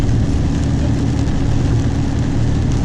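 A car with an overhauled 68RFE automatic transmission drives along, its engine a steady, close, loud rumble throughout, with no clear break that marks the downshift.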